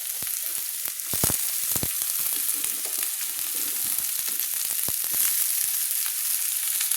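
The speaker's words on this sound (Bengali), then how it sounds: "এবার আমি তুলে দিচ্ছি কোচানো বাঁধাকপি।" Chopped cabbage tipped onto fried potatoes in a pan sizzles loudly and steadily, with scattered crackles and a few scraping knocks of a spoon up close.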